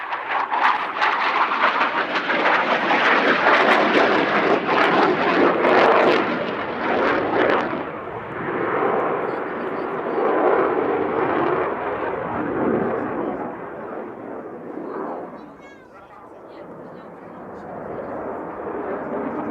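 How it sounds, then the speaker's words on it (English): Dassault Rafale C fighter jet upgraded to F3 configuration flying its solo display at an airshow, a loud, sustained broadband jet roar that stays strong throughout and then eases slightly toward the end. "it will be the primary Rafale solo display aircraft for the 2022 season only"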